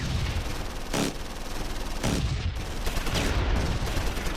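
Gunfire in the World War II strategy game Close Combat 4, set in the Battle of the Bulge on the Siegfried Line, with several loud crackling bursts of rifle and machine-gun fire over a steady noisy battle din.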